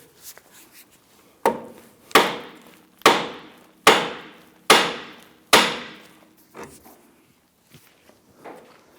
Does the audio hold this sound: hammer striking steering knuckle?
yes